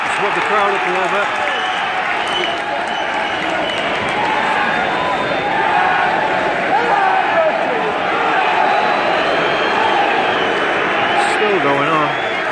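Fans at an Everton vs Lyon football match fill the stadium with sustained crowd noise, a dense roar of voices and clapping, with nearby talk running over it throughout.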